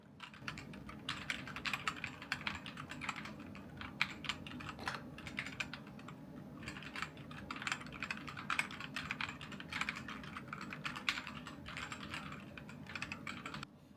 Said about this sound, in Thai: อันนี้ผมก็จะให้เพื่อนๆ ฟังแบบเงียบๆสัก สามสิบวิดูนะครับ นี่ก็จะพิมพ์ให้ดูครับ